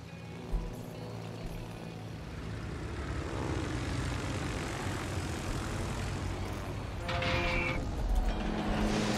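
Aircraft engine of a carrier-launched plane in the naval battle game World of Warships, a steady droning propeller hum that swells and sustains throughout, loud and close with no talking.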